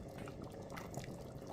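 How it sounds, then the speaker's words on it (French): Red oil pours steadily into a boiling beef pasta sauce, a soft continuous gurgling and simmering wash, close and faint, with no talking. "je rajoute mon huile rouge à l'intérieur"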